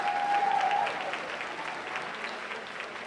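An audience at an NAACP branch Freedom Fund awards ceremony claps for a community education awardee, a dense round of applause that is strongest at first and eases slightly, heard from within the room.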